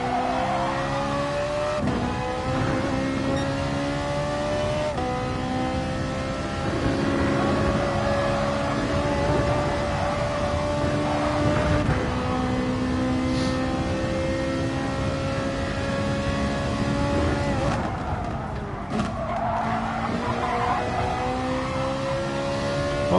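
A Ferrari race car engine in the GT Sport racing game at the Nürburgring drones loud and steady throughout, its pitch climbing and dropping through repeated gear shifts with no talk over it.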